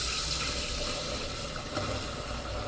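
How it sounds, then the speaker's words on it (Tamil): Unboiled milk is poured into caramelized sugar for caramel payasam, giving a steady, hissing rush of liquid that runs continuously at moderate volume with no voices. "இந்த பாலை தான் நான் இப்போ ஊற்ற போகிறேன்."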